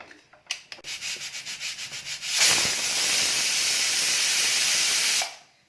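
A loud, steady hiss of steam rushes out of a pressure cooker whistle, cooking green chickpeas on a medium-high gas flame, for about three seconds after a series of quick rhythmic puffs, then cuts off abruptly.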